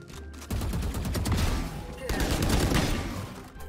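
Rapid gunfire bursts from Valorant gameplay crack in dense, repeated volleys across the whole stretch, loud and close, with a brief break near the middle before another sustained barrage.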